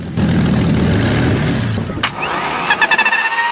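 A car powered by a 42-liter V12 from a World War II PT boat, rated 1,500 bhp and fitted with 24 exhaust pipes, rumbles loudly up close, then gives a few sharp bursts and revs.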